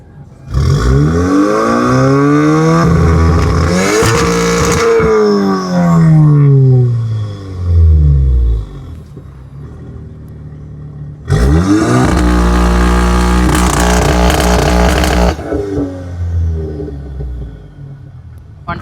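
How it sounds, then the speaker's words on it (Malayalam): A car with two-step launch control at a car meet in Canada revs hard in two long, loud bursts, with deep rumbling engine tone and a lull of idling between them. "അപ്പോൾ നമുക്ക് വണ്ടി 2 സ്റ്റെപ്പ് കേൾക്കാം"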